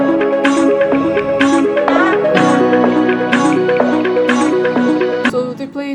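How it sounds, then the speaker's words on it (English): Chopped vocal samples in an electronic track, with short pitched vocal fragments stuttering in a quick rhythmic pattern over sustained harmony. The mix is loud and full throughout. "I took a little bit of the vocal and made some chops with it"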